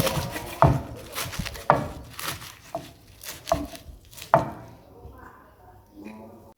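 Knife chopping vegetables on a board while preparing an Isan-style curry of red and brown wild mushrooms, a series of sharp, close chops at an uneven pace, with occasional quiet talk in between.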